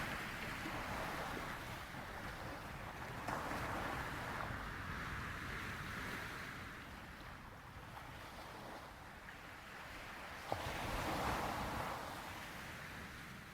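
Ocean surf washing onto the shore of a seaside town, a steady broadband wash with slow swells and a breezy, windy edge, continuous and fairly distant with no voices.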